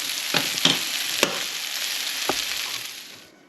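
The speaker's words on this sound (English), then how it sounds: "Just want to kind of sear the outside of them is all." Meatballs searing in a pan sizzle with a steady bright hiss, broken by a few soft clicks and scrapes as they are moved, then fade near the end.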